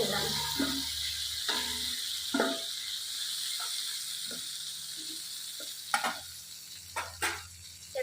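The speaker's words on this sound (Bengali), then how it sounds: "অল্প তেলে ভাজবা" Masala spice paste fries in a little oil, a steady broad sizzle running throughout with occasional clicks and scrapes of stirring, moderately loud and close.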